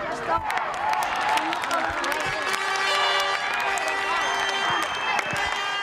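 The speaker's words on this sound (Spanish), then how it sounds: "aplaudimos." A football team and crowd applauding, steady clapping mixed with cheering and raised voices, fairly close and sustained throughout.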